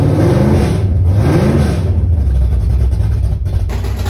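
A Ford 351 V8 car engine runs loud and close, revving up and then dropping back to a steady, rumbling idle.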